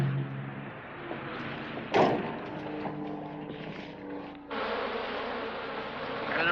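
Swarm of bees buzzing from spilled hives in a 1973 adventure film, a dense continuous droning hum that swells sharply twice, with no talk over it.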